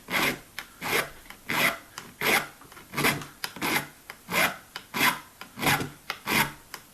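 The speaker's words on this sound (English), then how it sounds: "I can start with my little file, then I can start filing away" A small hand file rasps against the plastic on a guitar during a refret, in a steady rhythm of about a dozen back-and-forth strokes, close and clear, with no talk.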